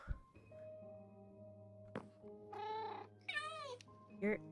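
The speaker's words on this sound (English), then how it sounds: "You're the Council of Cats." Several Minecraft cats meow in short, rising and falling calls, a few in quick succession, over a steady background tone.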